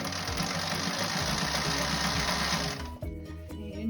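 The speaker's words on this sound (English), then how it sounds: "And we're just going to stitch, and your piping will be done." A sewing machine stitches fabric piping at medium stitch length, a fast steady mechanical chatter that runs continuously close by and then stops abruptly, leaving a few faint clicks.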